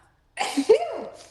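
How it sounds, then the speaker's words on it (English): A single sharp sneeze bursts out after a moment of silence, close and loud, with a sharp intake before the release. "I think I have to sneeze."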